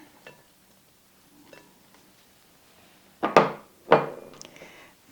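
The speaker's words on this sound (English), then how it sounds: "And then I'm going to put in my tomatoes, my purple onions" Chopped tomatoes and purple onions drop into a salad bowl, with a few faint taps followed by two louder close clattering thuds.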